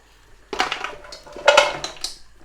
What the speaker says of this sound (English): just gonna throw everything back right in this pot here